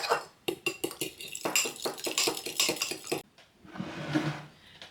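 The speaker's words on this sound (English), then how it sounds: "So I'm going to beat the egg." Egg being beaten for Norwegian butter cookies, a quick run of sharp clinking taps of a utensil against a bowl, close and bright, followed by a brief softer scraping swirl.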